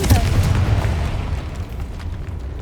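A Confringo blasting spell from Hogwarts Legacy detonates as a single deep boom with a rumbling low-end tail that fades slowly over a couple of seconds.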